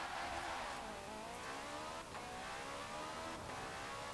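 A 1956 Lotus Eleven in Forza Horizon 4 revving hard through the gears, a buzzing, climbing engine note with pitch drops at each shift, steady and fairly loud.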